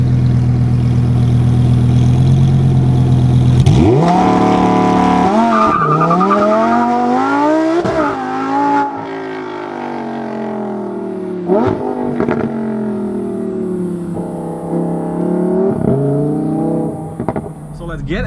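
A Lamborghini Huracan Tecnica, 640 hp, launching hard in drive, with its engine climbing steeply through repeated rising revs. Tyre squeal comes in along the way, and the car sounds loud and close throughout the run.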